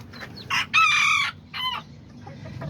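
Serama and Azteca chickens and a rooster clucking and calling, with a few short bursts of close, loud clucks and crowing-like calls over a low background hum.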